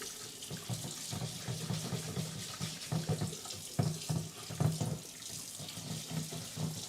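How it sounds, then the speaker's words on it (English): Tap water runs continuously into a sink while rice is washed by hand. The sound is a close, steady splashing stream with irregular sloshes and swirls as the hand stirs, and no one speaks. "And now I'm basically just running the water while stirring my hand around."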